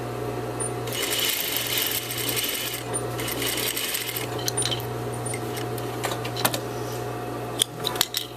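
Sewing machine stitching a rugby shirt placket: a fast, steady mechanical whir of needle strokes in bursts, close by, ending with a few sharp clicks and taps.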